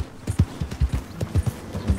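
Horse hooves clip-clop in a steady riding gait through a town in Red Dead Redemption II, close and fairly loud with a quick rhythmic patter of many hoof falls and no talking.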